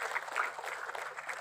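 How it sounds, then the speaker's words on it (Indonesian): A short burst of audience applause at a business seminar, a dense patter of many hands clapping at moderate distance, brief and fairly soft. "Tepuk tangan untuk Bapak Ibu."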